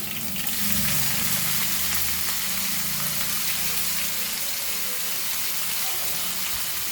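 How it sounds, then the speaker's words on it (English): Chopped onion fries in a pan with chilies, giving a steady, dense sizzle and crackle that starts loud and then holds at an even level. A faint low murmur sits underneath, but no clear speech comes through. "Fry this very nicely."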